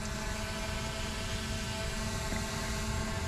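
A Holystone HS600D drone circles overhead outdoors, its propellers giving a steady, faint, continuous whirring buzz with no clear rise or fall in loudness.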